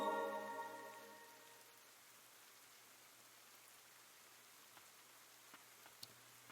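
Rain falling in the video game Ender Lilies, a soft, steady hiss of drops with a few faint ticks, following a fading musical tone at the start.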